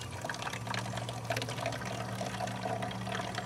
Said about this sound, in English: I'm going to put 97 milliliters of water in on top of it